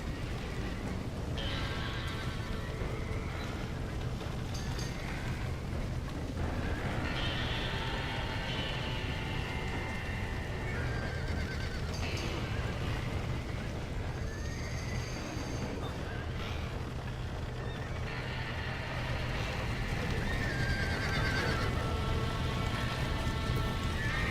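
Horses neigh and whinny repeatedly, trapped in a burning barn in the Red Dead Redemption video game, with hoof clatter and a steady crackling roar of fire throughout.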